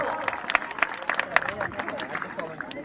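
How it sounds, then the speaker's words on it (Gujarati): An audience at a Republic Day prize-giving claps in a brief burst of scattered, fairly faint applause, with voices talking over it. "બધા તાળીઓ પાડો"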